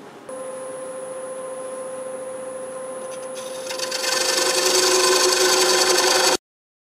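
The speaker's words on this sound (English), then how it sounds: "I'm going to get set up to part this off" A small wooden brick vase spins on a wood lathe as a tool parts it off, a steady scraping rub with a high whine that grows rougher and louder before cutting out abruptly.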